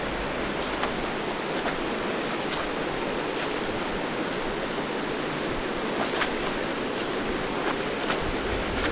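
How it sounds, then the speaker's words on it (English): A powerful river in the Lyngen Alps of Norway rushes in a steady, loud, unbroken roar of churning water, close by and continuous throughout, with no voices. "Look how much power this river has."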